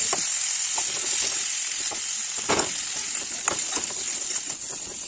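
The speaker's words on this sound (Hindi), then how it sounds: "तो अभी मैंने तड़का लगा दिया, तो अभी मैं आलू डाल के इसमें वो कर रही हूँ।" Potatoes sizzle and fry in hot oil with a curry leaf tempering, a steady, close hiss with occasional sharper crackles and pops throughout, no talking.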